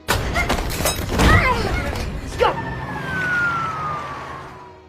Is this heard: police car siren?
yes